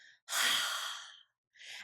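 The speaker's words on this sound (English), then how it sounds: "you inhale deeply and you exhale with a forceful" A single forceful exhale in a breath-of-fire exercise, done standing with knees slightly bent, comes as a loud breathy rush lasting about a second, with a softer breath following after a short pause.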